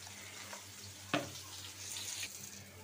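Water poured from a container onto salted, marinated fish in a home kitchen, a soft steady splashing trickle with one sharper splash, quiet and close.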